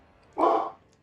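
A dog lets out one short, sharp bark as someone arrives home, heard alone at moderate distance against a quiet room.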